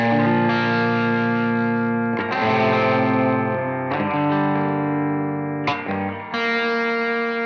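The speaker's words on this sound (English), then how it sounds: "I were to just very, very gently just graze my pick on the strings" Pick very gently grazing electric guitar strings with the amp at full gain and everything on 10, giving long, heavily broken-up sustained chords that swell and decay, with a few sharper attacks, loud and alone without speech.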